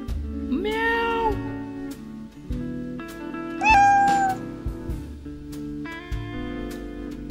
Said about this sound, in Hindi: बिल्ली कैसे बोलती है म्याऊ म्याऊ